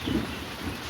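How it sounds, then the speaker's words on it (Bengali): Low thunder rumbles beneath the patter of rain just beginning to fall, a brief dull roll heard alone with no voices. "মেঘ ডাকছে"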